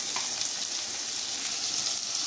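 Onions sizzling in a hot pan as they are stirred and spread around, a bright, continuous hiss close up and fairly loud with no talk over it.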